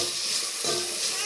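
Potatoes frying in a pan are stirred with a steady bright sizzle and a soft scraping stir, close and continuous throughout.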